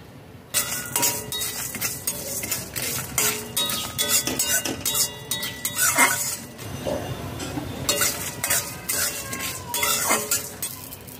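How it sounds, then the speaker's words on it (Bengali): Whole cinnamon, nutmeg, mace and coriander seeds dry roast in a dry pan over low to medium flame. Busy metallic stirring clinks and scrapes go on almost continuously over a faint background sizzle, close and fairly loud. "শুকনো খোলায় ভেজে নেব।"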